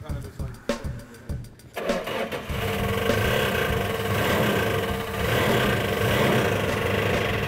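A freshly rebuilt car engine is revved and let drop in short bursts, then runs steadily at a rough, even idle, loud and close, with no one speaking.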